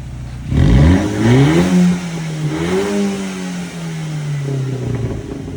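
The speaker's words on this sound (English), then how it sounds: "Give it a little rev." Close-up of a 1995 Honda Accord Coupe engine being revved, a sharp climb in pitch followed by a couple of throttle blips that drop back toward a steady idle, loud and alone.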